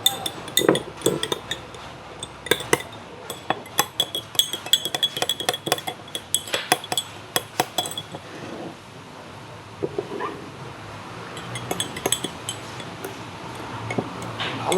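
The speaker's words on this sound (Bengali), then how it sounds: "ভালো করে এই কাপের মধ্যে ভালো করে মিশিয়ে নিতে হবে।" A spoon stirring herbal cough tea in a cup, producing quick repeated clinks and taps against the cup that come in busy runs, pause, then resume, close and fairly loud.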